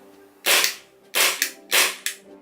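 Three sharp, snappy shots from a green-gas airsoft Glock G19 pistol, about a second apart, each with a quick mechanical clack trailing the report, fairly close.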